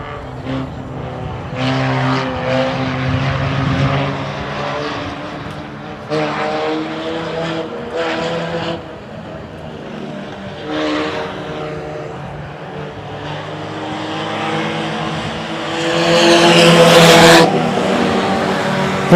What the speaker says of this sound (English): And the green flag's going to drop. Tanner House will get the horsepower going.